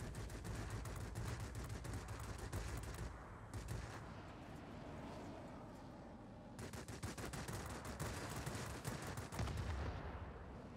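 A rear gunner in the World of Warplanes video game opens up with machine-gun fire in long rapid bursts, split by a short lull in the middle, loud and steady against a droning background.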